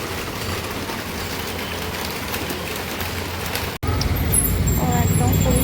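Heavy rain falls continuously in northern Bengal, a dense steady hiss on surfaces that briefly cuts out and then returns louder and closer, with faint drips and patter layered on top.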